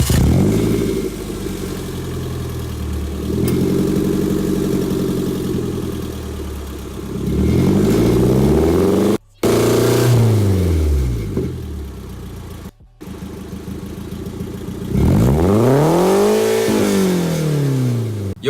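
Toyota MR2 engine revved in stages up to redline, loud rising and falling sweeps of engine pitch close by, with brief pauses between pulls and no talking.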